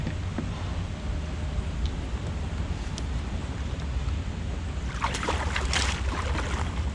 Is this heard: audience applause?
no